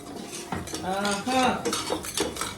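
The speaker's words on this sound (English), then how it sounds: "stirring it up. Making sure the peppers get nice and translucent a little bit" Peppers being stirred in a pot, heard as a metal spoon scraping and clanking against the cookware in a quick run of close, fairly loud strokes, with faint voice-like sounds underneath.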